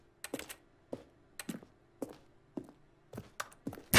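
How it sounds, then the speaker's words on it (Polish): Keyboard typing from the video game The Stanley Parable plays as clicks: light keystroke taps come in small clusters at an even pace, near and crisp against an otherwise quiet background. "za każdym razem, jak próbuję coś kliknąć, to słychać ten dźwięk klawiatury"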